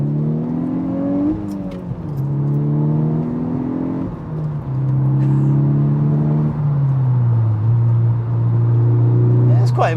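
A turbocharged 320 bhp Stage 1 VW Golf R pulls hard from second gear, engine note climbing loudly with a whirring tone, dipping briefly at gear changes, then rising again as speech is also detected.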